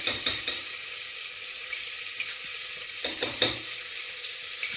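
Butter sizzles steadily in a hot pan, close and fairly quiet, broken by a few sharp scrapes and clinks of stirring near the start and again around the middle.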